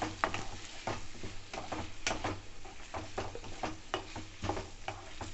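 Curry with curry leaves being stirred in a pan, with a steady run of close spoon scrapes and clicks over a soft sizzle and a faint low hum, with no talking.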